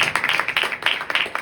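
A church congregation at a Christian sermon applauding together, a loud, close burst of rapid overlapping hand claps with no voices over it.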